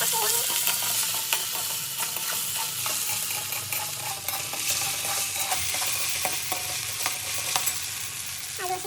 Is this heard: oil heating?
yes